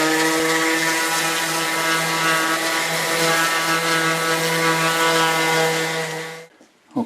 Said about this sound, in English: Now I'm going to use the orbital sander with